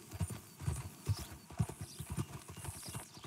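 Hoofbeats from a horse ridden through a town in Red Dead Redemption 2 clip-clop in an even trotting rhythm, close and clear, with soft game chatter in the background.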